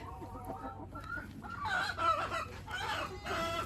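A hen clucks softly and intermittently while dust is worked by hand into her back fluff and under her wings, the calls close and low over handling noise.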